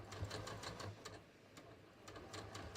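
A sewing machine stitching jeans fabric runs in quick, faint bursts of rapid ticking, pausing briefly and starting again, with a low hum beneath.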